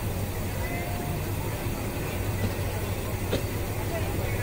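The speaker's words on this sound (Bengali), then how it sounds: "আমাদের ট্রেন ছেড়ে গেল পিয়ারপুর রেলওয়ে স্টেশন বিকাল 5টা 47 মিনিটে" Tista Express passenger train pulling out of Piarpur railway station in the late afternoon in rain, a steady low rumble and hum of the moving carriage heard from inside, continuous and even, with a faint squeal and a brief click.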